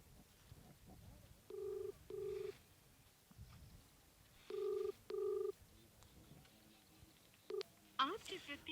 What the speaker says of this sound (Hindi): पूरी बेल जा रही है। मैं तीसरी बार उनको कॉल कर रहा हूँ